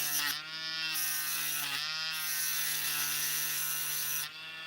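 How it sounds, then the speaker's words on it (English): A Dremel rotary tool with a polishing bit runs close and loud in a high steady whine, briefly dipping in pitch as it meets the work and then holding on. "even the bit I'm using, the tip I'm using in this Dremel, that is really just a polishing bit."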